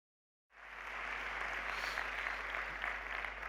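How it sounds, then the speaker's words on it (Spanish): Sustained applause from an audience at a diabetes awareness event, a steady wash of clapping that starts abruptly after a moment of silence and holds evenly, slightly distant. "Este aplauso es para Paul"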